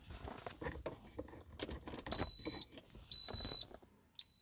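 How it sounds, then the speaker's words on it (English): A high electronic car radio security alarm in a BMW E32/E34 beeps in three bursts, each lasting about half a second, over soft clicking and handling noises nearby. "I pushed a button with my knuckles, and this started beeping."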